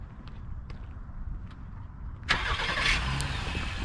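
A 2022 Acura MDX with a 3.5-litre V6 starts remotely, heard from outside: faint ticks and clicks, then the engine cranks and catches, settling into a quiet, steady idle.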